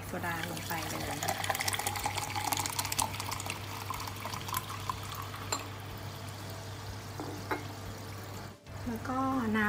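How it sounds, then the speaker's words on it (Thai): Soda pours steadily into a glass, a continuous fizzing and splashing stream up close that runs for several seconds. A low hum sits under it, and it is briefly interrupted near the end. "จากนั้นนะคะก็ใส่โซดาลงไปเลย"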